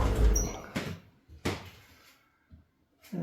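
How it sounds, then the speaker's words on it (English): A wooden interior door in an akiya house under renovation is opened, giving several soft knocks and thuds with quiet pauses between them, close and fairly faint. "by opening this door."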